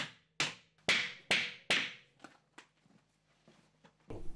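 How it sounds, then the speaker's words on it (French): Nail plugs are hammered in to fix battens to a bathroom wall, five sharp close hammer strikes in quick succession followed by a few lighter taps. "Avec des chevilles à clous, la fixation des lattes progresse vite."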